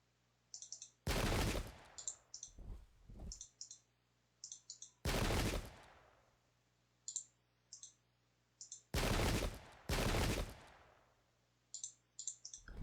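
Musket volleys from a unit in the Pike and Shot strategy game: four loud, sharp crackling bursts of massed gunfire, each lasting about a second. Fainter clicking sounds from the interface fall between the volleys, and a low steady hum sits underneath.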